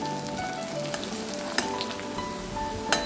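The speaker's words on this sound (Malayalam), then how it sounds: "ഇത് നന്നായിട്ട് പൊടിയണ പോലെ വറക്കണം" Ginger slices frying in a pan for a tamarind ginger curry, a steady close sizzle with occasional crackles and stirring scrapes throughout.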